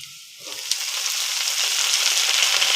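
Telakucha greens hitting hot oil in a pan, bursting into a loud, steady sizzle after a brief quiet moment and holding strong throughout.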